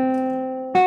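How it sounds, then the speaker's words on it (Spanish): A diminished fifth played on classical guitar: one sustained plucked tone rings, then a second note is struck near the end, close and clear with no voices. "Es una quinta disminuida, sonaría así."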